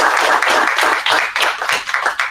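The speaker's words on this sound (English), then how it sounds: "Let's give a big round of applause." Audience applause at a school board of education meeting honoring a student, a short burst of dense clapping from a room full of people with a voice faintly over it.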